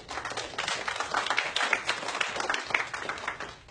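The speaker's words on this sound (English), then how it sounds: "People are clapping for Iran?" A television studio audience at a 2006 talk show applauds continuously, a dense, steady wash of many hands clapping at once that stays loud and full throughout.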